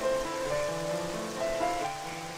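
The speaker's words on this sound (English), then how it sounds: "Being in 2 inches of water in the pouring rain." Heavy pouring rain in the Twilight Princess video game, a steady dense wash of falling water with a few sustained tonal music notes floating over it, no voices.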